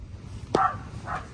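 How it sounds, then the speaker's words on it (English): A single short dog bark, followed by a softer yip, over a quiet background. "There's a doggy."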